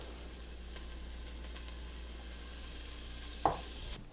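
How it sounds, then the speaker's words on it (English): Onion pan-searing in hot oil for beef tips, a steady close crackling sizzle throughout with a single sharp utensil clink near the end. "I'm going to put in that onion. We're going to pan sear it off until it's browning on the edges."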